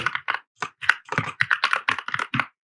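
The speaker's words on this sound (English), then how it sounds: "I'm going to type in format here" Close, crisp typing on a computer keyboard while writing a Java variable declaration, about a dozen quick irregular keystrokes in a short burst, with no talk over them.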